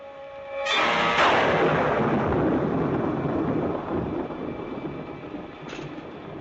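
A loud crack of thunder on a stormy night breaks suddenly and rolls on as a broad rumble, then fades slowly to a low murmur.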